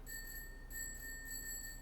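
Small bells ring outdoors, with thin, repeated high chimes that come in short bursts over a low background hum, heard from a distance.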